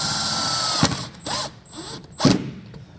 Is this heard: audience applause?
no